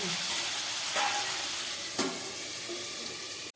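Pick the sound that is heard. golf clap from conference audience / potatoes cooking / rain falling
potatoes cooking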